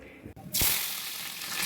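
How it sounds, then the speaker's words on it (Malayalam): Mutton kurma curry in a covered pot on the stove, a soft hiss that swells suddenly into a steady, bubbling sizzle that keeps going. "ഒന്ന് മൂടിക്കൊടുത്ത് നന്നായി ഒന്ന് തിളച്ച് വരട്ടെ കേട്ടോ നമ്മുടെ കറി"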